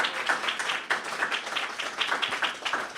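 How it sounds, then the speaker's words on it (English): A church congregation at a Sunday service gives a round of applause, a steady patter of many hands clapping at moderate volume for a few seconds. "Let's give Georgia a round of applause"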